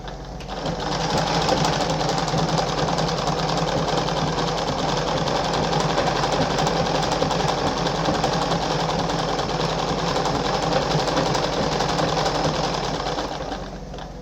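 A Singer 5107 sewing machine runs a straight stitch at a reduced stitch length through fabric, making a loud, steady whirring drone that holds without pause for most of the run.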